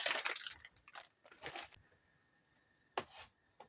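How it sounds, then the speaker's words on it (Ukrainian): A knife cuts sausage into small cubes for sandwiches, giving a quiet run of close, crisp crunching cuts in short bursts separated by brief pauses. "Ковбаску я нарізаю кубиками на бутерброди."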